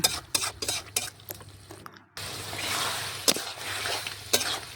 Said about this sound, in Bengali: দিয়ে আবার নাড়াচাড়া করে মিশিয়ে নিলাম